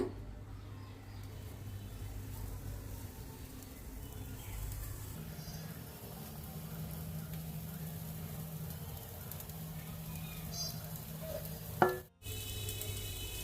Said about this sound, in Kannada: ಇವಾಗ ನಾವು ಈಗೇನು ಕಟ್ಲೆಟನ್ನು ಮಾಡಿ ಇಟ್ಕೊಂಡಿದ್ರಲ್ಲ ಇವನ್ನ ಇದ್ರ ಮ್ಯಾಗ ಇಟ್ಟ ಚಂದಂಗಿ ಬೇಯಿಸ್ಕೊಳ್ಳೋಣ